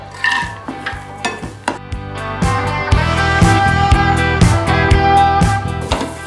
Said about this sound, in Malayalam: ഇതിലോട്ട് നമുക്ക് അണ്ടിപ്പരിപ്പ് ഇട്ട് കൊടുക്കാം.